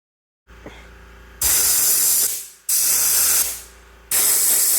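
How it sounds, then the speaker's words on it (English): An airbrush sprays Army Painter paint in three sustained hissing bursts, each a few seconds long with short gaps between, close and clear against a quiet background. "And of course, I have to test it out in an airbrush."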